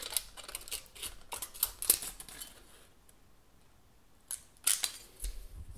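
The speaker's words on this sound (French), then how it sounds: "la paire de ciseaux ça marche vraiment très très bien" Scissors snip through thin metal for a homemade alcohol stove in crisp, quick bursts of cutting, close and clear, with a pause midway before a few more snips.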